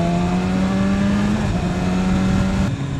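A 2015 BMW S1000RR sport motorcycle, close to 200 brake horsepower, gives a loud sustained high-revving engine howl with a steady pitch, then briefly shifts and dips near the end.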